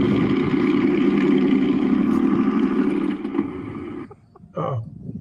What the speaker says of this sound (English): Real engine there.